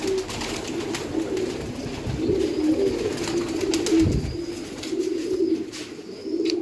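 Breeder pigeons in a loft give steady, overlapping coos close by, a low rolling murmur that carries on through the whole stretch with no voices.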